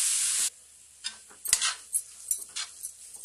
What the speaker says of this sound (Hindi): तो अच्छे से इसे मिक्स कर लेंगे।